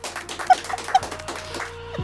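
A puppy gives a couple of short, faint high whimpers amid background chatter, with a soft electronic hum underneath.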